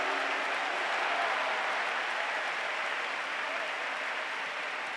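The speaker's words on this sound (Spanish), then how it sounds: "denle un fuerte aplauso al Señor" Loud, dense applause fills a church service, steady and unbroken throughout with no pauses, the clapping of a large congregation at a convention gathering.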